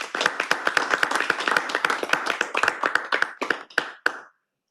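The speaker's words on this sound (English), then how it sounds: "Can I get a round of applause for the general?" An audience at a veterans' workshop claps for a speaker, a dense burst of close hand claps that thins out and stops abruptly after about four seconds.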